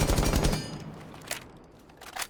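A short burst of rifle gunfire in the shooter game Rainbow Six Siege fires rapidly for about half a second, followed by a couple of scattered single shots, all without talk.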